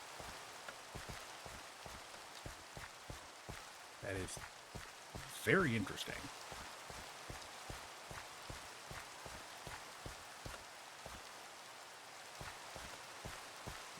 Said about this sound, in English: it's raining, but the world doesn't react as though it's raining